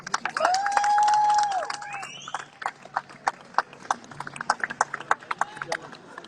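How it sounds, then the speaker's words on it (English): Scattered, uneven hand claps from a crowd at an outdoor Free Palestine rally in Melbourne, following a sustained whistle-like tone at the start, with voices murmuring underneath. "I'm sure you'll give Gabriel a round of applause for that address on behalf of his brother."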